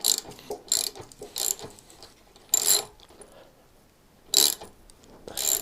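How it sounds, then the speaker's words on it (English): Ratchet wrench clicking in short bursts while undoing stiff bolts on the rear rack of a Royal Enfield Classic 350, close and crisp with quiet pauses between strokes. "I've got the ratchet set up here now for it."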